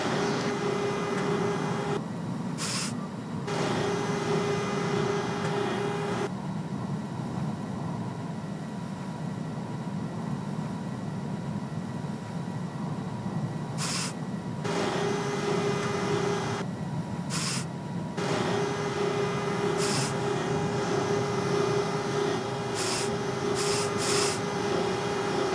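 A New York MTA Q subway train runs in a simulation game, giving a steady, moderate rumble of wheels and motors for the whole stretch, broken by intermittent brief tonal hums as the train moves.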